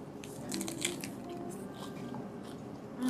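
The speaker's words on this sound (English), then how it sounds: "so let's take a bite" Someone bites into a lettuce wrap of cured Vietnamese pork and crispy rice salad, with quiet, close crunching and squishy chewing in a soft run of small crackles.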